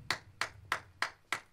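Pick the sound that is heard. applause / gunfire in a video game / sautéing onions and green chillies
applause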